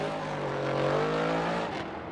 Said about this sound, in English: talk about that exhaust note